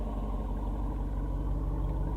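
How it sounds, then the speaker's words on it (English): The 392 V8 of a 2022 Jeep Wrangler Unlimited Rubicon 392 burbles at idle through its performance exhaust, a steady, close, low rumble with no voices. "And it has that performance exhaust that I obviously have turned on"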